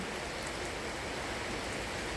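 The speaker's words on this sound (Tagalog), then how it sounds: "Ang grabing ulan guys." Heavy rain pours steadily outdoors in the Netherlands, a dense, even hiss of falling water with no breaks, loud and close throughout.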